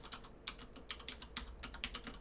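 Someone types commands on a computer keyboard at a Kubernetes command line, producing a quick, irregular run of close, crisp key clicks with no one speaking.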